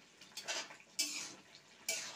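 A spoon scrapes and clinks against a pan while soybean and potato curry with coriander powder is stirred, giving a few short, quiet strokes.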